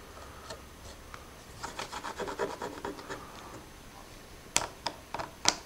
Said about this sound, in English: we'll cut a little cross-grain scratch in here